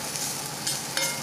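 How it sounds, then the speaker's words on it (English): Eggs frying in a hot pan, a steady close crackling sizzle with brief louder spatters. "you can see they're sizzling really good"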